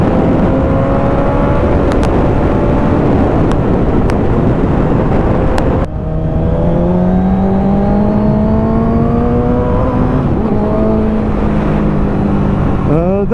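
A 1998 Suzuki GSX-R 750 SRAD motorcycle engine revs hard and shifts through gears, pitch climbing in repeated sweeps over loud wind rush, with a voice talking over it.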